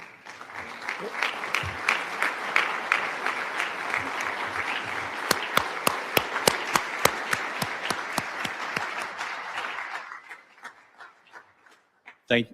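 Sustained audience applause fills the hall at an education summit, steady dense clapping with a few sharper claps standing out, then tapering off to quiet before a brief final sound.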